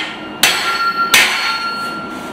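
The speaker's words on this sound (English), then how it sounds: "I'm actually driving this in with my 6-pound sledge." Two sharp, ringing blows of a six-pound sledgehammer driving a drift into hot steel while an axe is forged, each strike leaving a metallic ring that fades out.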